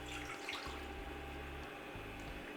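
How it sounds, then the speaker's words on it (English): Water runs steadily into a metal saucepan on a hob with a low, rumbling gurgle and continuous splashing hiss, no voices. "we just put our saucepan on, add in our water"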